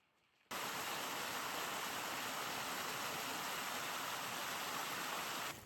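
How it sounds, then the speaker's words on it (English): Water trickles and splashes at a nearly dried-up waterfall along a hiking trail, making a steady, even hiss of flowing water that begins abruptly and holds at an unchanging level, with no voices. "Looks pretty dried up. Just a little trickle over there."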